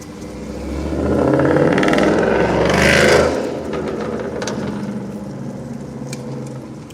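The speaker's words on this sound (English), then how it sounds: "I hate a car that sounds like that." A car engine revs up close, a rough rising roar that builds and peaks at about three seconds, then settles back to a loud, steady idle with no talk over it.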